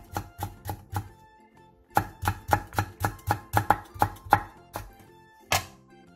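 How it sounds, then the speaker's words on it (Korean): A knife chops green onion and halved red chili on a cutting board in quick sharp strokes, a run of about four, a brief pause, then a steady burst of a dozen more close, crisp taps. "홍고추 2분의 1개를 길게 반으로 가른 뒤 쫑쫑 썰어주세요."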